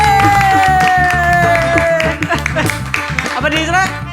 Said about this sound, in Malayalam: എല്ലാം പറഞ്ഞ കൈയടിച്ച് പാസ്സാക്ക്